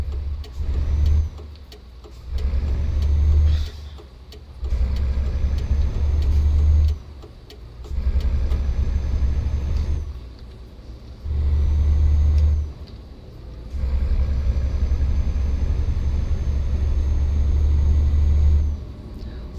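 A loaded cargo truck drives along a road, its loud diesel engine rumbling close by in long surges that fall off into brief lulls between them. Faint road noise fills the gaps.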